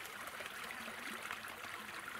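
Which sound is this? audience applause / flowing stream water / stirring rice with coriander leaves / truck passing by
flowing stream water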